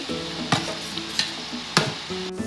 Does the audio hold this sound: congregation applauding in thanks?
no